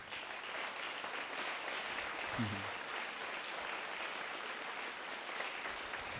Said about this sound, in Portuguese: Vocês podem aplaudir Jesus por isso?